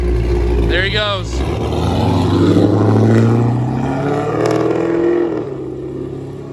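A Pontiac G8 with a 370 LS engine pulls away, its V8 rumble rising and then fading with distance, while people talk over it.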